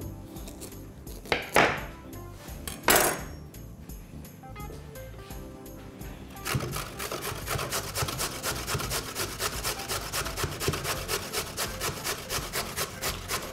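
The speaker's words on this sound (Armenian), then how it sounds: "Գազար ենք հերում" A carrot is grated by hand, starting with a few scattered scrapes and knocks before settling into a fast, regular rasping rhythm that runs close and steady to the end.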